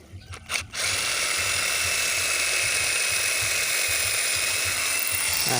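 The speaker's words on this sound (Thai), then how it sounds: "ผมปรับเป็นเบอร์สองนะครับก็เจาะไม้นะครับ" A 28V cordless drill set to its second speed bores through wood, starting with a few brief stutters, then a steady, loud continuous whir that runs to the end, close and alone.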